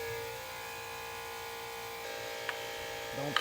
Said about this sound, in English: hopefully that air compressor is not too loud.